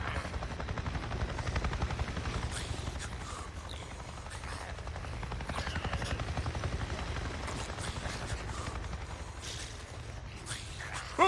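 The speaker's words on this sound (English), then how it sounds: "I just saw a goddamn chopper! A chopper? What are you talking about? A Nero chopper! It just buzzed right over me." A helicopter in the video game Days Gone throbs with a steady rotor chop that swells and fades slightly as it passes, fairly faint and continuous, with no speech.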